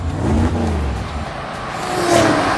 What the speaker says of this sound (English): The car raced down the street like it was in the Indy 500.